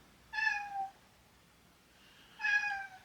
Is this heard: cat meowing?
yes